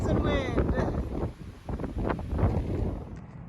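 Wind gusts across a burned section of the Appalachian Trail, buffeting the microphone with loud, rumbling roars that dip briefly midway and then surge again.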